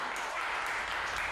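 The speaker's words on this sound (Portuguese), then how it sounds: "essa daí merece palmas." A brief, continuous burst of crowd applause, even and moderately loud throughout, during a debate reaction session.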